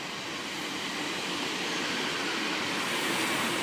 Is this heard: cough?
no